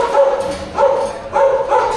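Herding dogs working sheep at Caversham Wildlife Park in Perth bark repeatedly, with four loud, close barks in a steady rhythm and no talking.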